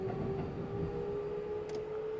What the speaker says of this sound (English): we are traveling on the Yamanote Freight Line